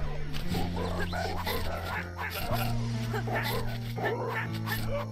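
Dog barks and whimpers in the video game The Forbidden Arts, sounding steadily beneath droning game music, with a person talking over it.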